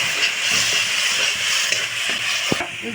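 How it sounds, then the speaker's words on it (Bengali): Spice paste with sugar frying in a pan for a Bengali prawn curry, a steady close sizzle and hiss with a few soft stirring knocks and one sharper clack near the end. "দিয়ে খুব ভালো করে মশলাটা কষিয়ে নেব।"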